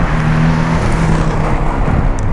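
A 2016 Porsche 718 Boxster S with a turbocharged flat-four and sports exhaust, its engine droning loud and steady at high revs from close up, with no talk over it.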